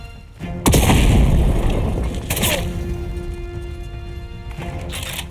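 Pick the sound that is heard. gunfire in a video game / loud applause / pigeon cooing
gunfire in a video game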